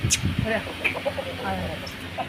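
Punjabi Aseal rooster, an old heritage fighting breed about a year and a half old, clucking in short bursts on a rooftop, with people talking nearby and background farm noise.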